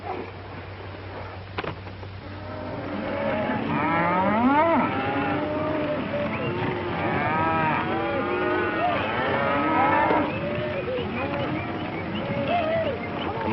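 Cattle low repeatedly on a Western cattle drive in Montana, several drawn-out moos overlapping at middle distance over a constant background rumble, with no one talking.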